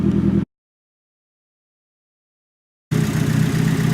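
A Nissan SR20DET engine idles steadily after a water pump replacement, a close, even rumble that cuts to total silence for a couple of seconds before resuming.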